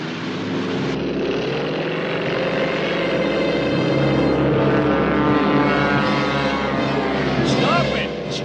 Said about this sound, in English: Stop it! Stop the airplane!